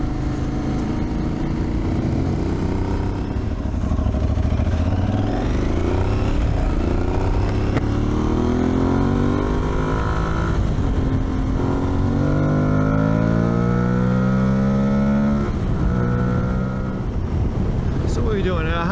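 Steady loud engine drone of a Tuareg 660 motorcycle cruising at 100 km/h around 4,500 rpm, with heavy wind rush over the microphone throughout.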